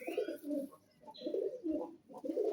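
A golden pigeon coos softly in repeated low, rounded phrases with short pauses between them, close but quiet.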